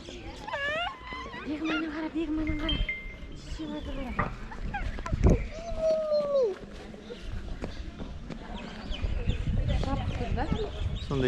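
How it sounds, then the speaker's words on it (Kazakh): Birds call and chatter in a lively mix from the holes in the stone walls of the Khoja Ahmed Yasawi mausoleum in Turkestan. Their calls rise and fall around people talking nearby. "соның іштерінде жүр құстар"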